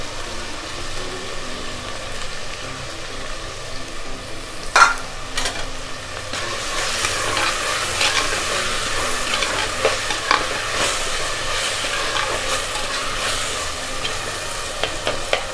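Tomatoes with salt sauté in a pan for crab rasam, giving a continuous sizzle with repeated scraping stirs and a sharp clink near the start.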